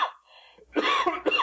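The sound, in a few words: man coughing in audiobook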